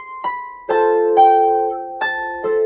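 Acoustic guitar plays the second section of a song, with five clearly separated strummed chords, each ringing out before the next, close and clean with no talking.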